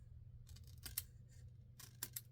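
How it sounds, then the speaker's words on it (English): Scissors make two quiet pairs of crisp snips as they trim the paper ends of a pop-up Valentine card. The cuts are close and sit over a low background hum. "Trim these ends off."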